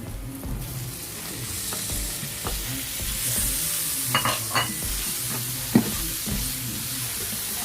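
Meatballs sizzle steadily in a hot pan while a utensil stirs them, scraping and clacking against the metal in scattered knocks throughout, close and fairly loud with no voices.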